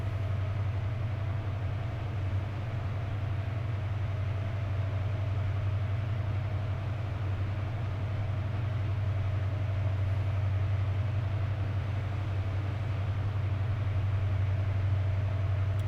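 A GWR-liveried train in Train Sim World 3, running between Edinburgh and Glasgow, gives a steady low engine rumble with a constant mid-pitched whine, unbroken and even throughout.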